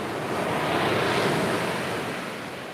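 Ocean waves roll continuously onto a beach, a broad loud wash of surf that swells and slowly recedes, with some wind noise on the microphone and no voices.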